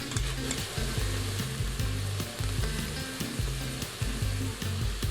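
Garlic sizzles steadily in hot oil in an Instant Pot for a pot roast, a close, continuous frying crackle with no talking.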